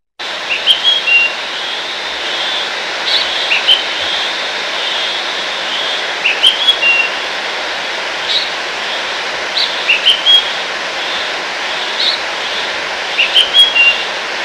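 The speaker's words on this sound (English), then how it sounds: "the migratory birds coming down to Goan coast in winter." Migratory birds call on the Goan coast in winter, with faint high chirps recurring in short clusters over a steady, loud background hiss.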